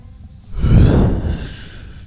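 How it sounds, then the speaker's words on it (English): A single long human yawn, close and fairly loud, starting as a deep drawn-in breath that swells and then trails off into a soft exhale. "Sorry, I'm yawning so much"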